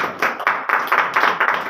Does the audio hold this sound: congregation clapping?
yes